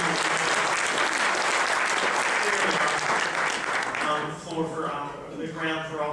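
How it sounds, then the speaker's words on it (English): An audience at a speech event breaks into loud, steady applause that gradually thins out, while a voice begins talking over the tail end. "they deserve a round of applause for making this happen"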